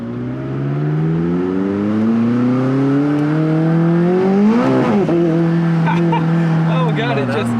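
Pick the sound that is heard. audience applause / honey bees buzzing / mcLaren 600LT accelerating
mcLaren 600LT accelerating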